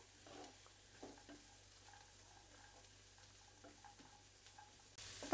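Onions and cashews frying on medium heat, a faint soft sizzle with intermittent spoon taps and stirring strokes, then a louder rush of noise at the end.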